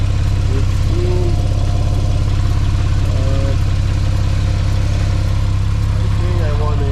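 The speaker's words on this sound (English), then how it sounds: "after putting about 8 quarts and starting the engine, I'm just gonna wait until it warms up" A 2015 Porsche 911 Carrera 4S (991.1) idles steadily while warming up after an oil change, giving a constant, loud low rumble with no revving. A voice speaks over it.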